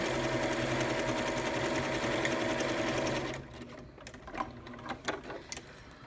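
A sewing machine runs a simple straight seam along the long edges of headband fabric, loud and continuous for about three seconds, then stops and gives way to quieter clicks and handling sounds.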